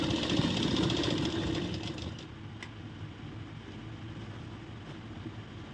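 Sewing machine stitching a half-inch hem along the curved edge of an umbrella plazo, a steady loud motor whir that eases off after two seconds into a softer continuous hum.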